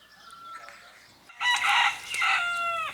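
A rooster crows loudly and close by, preceded by softer clucking from chickens in their enclosure on a homestead.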